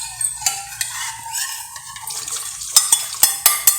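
A spoon stirs dissolved cornflour into a milk mixture for homemade condensed milk. Soft swirling liquid gives way to a quick run of sharp metallic taps and scrapes against the pot near the end.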